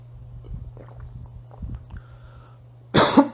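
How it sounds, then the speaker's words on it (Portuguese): A woman recovering from the flu gives a short, loud cough near the end, after a quiet stretch of soft background noise and faint movement. "vou dar umas tossidinhas aqui e ali"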